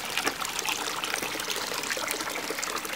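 Water trickles and splashes steadily through a homemade biofilter built from a trash can, a continuous bright dribbling wash with no voices.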